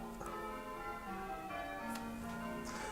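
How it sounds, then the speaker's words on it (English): Church bells ringing with a sustained, layered tone and overlapping strikes, steady and moderately loud throughout with no talking. "You'll hear the church bells in full effect at the moment, people."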